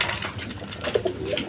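Indian paper pigeons give a few brief, soft coos close by, with faint rustling around them.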